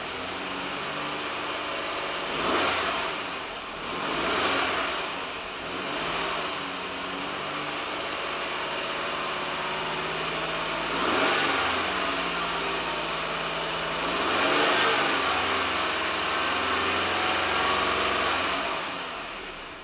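A 1990 Buick Regal V6, warmed up and suffering severe low power, idles steadily at close range, a continuous mid-pitched engine drone with a few brief swells in level and no talking.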